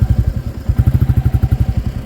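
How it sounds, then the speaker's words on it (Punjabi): A motorcycle engine turns over and catches beside a road construction site where a gravel mixer works, its close, loud, rapid chugging pulses repeating steadily with a clattering edge and no voices. "ਸਟਾਰਟ ਕਰਦੇ ਆ ਮੋਟਰਸਾਈਕਲ"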